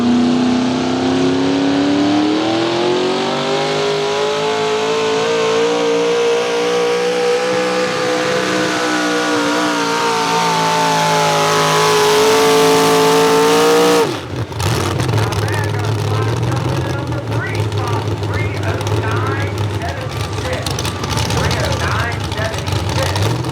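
V8 modified race cars at Millers Tavern roaring at full throttle, a loud rising engine note that cuts off abruptly, followed by a rougher, lower engine rumble with announcer speech over it.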